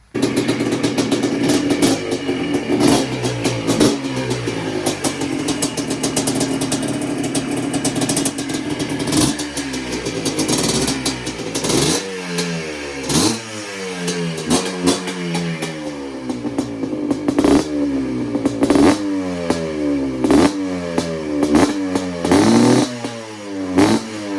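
A Yamaha Blaster ATV engine with fresh oil runs loud and close, idling with a clattery two-stroke note before repeated sharp revs rise and fall in quick bursts.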